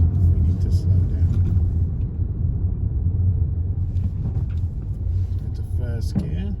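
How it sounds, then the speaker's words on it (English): A car rolls at low speed in first gear with a low engine rumble and road noise, steady and near from inside the cabin. Someone talks over the rumble toward the end. "Into first gear, keeping the car at low speed, ready to continue going"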